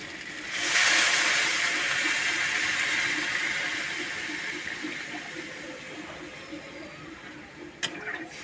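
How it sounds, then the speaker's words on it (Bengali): Water gushes into a pan of spiced curry that has been fried down with its masala, a loud splashing pour that starts abruptly and then tapers slowly into a steady hiss as it settles. "মশলাটা দিয়ে আমার তরকারিটা খুব ভালো করে কষানো হয়ে গেছে আমি এবার এর মধ্যে জল দিয়ে দেবো"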